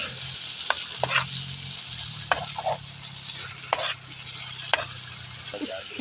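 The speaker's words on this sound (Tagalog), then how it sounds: "So ayan, igigisa natin siya." Boiled mung beans and shrimp sautéing in a pan, a steady close sizzle with several sharp scraping stirs of a utensil against the pan, no talking.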